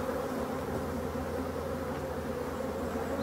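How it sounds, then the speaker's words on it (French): Forager honeybees returning to an orphaned hive hum in a dense, steady buzz, a continuous drone of many wings close by with no voices. "Ça c'est les butineuses qui rentrent, qui ne comprennent pas trop et qui se posent."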